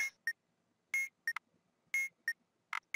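Alarm beeping in the bomb-defusal game Keep Talking and Nobody Explodes, a loud electronic tone repeating in short double bursts about once per second, with silence in between.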